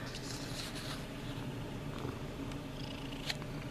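A cat purrs close by in a steady, soft, continuous rumble with faint rustling around it, no voices.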